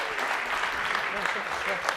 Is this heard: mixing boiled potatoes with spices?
no